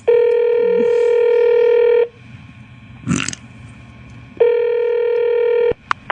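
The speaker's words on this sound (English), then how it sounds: "You were doing the Todd phone scams" A telephone line sounds loud, steady electronic tones in two long stretches. Between them comes a short burst of noise and handling.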